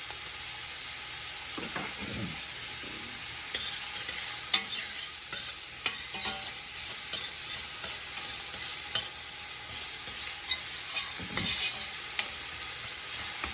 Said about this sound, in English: when you're cooking the onions, you cook them until they're nice and transparent